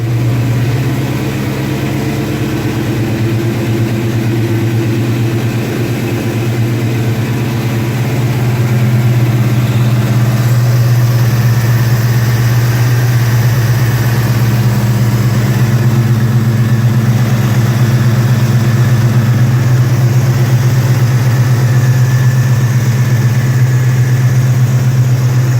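A Saleen 88-556 car engine idles steadily just after a cold start, with a deep, continuous low rumble and a faint higher whine that hold constant and close for the whole stretch, with no talking.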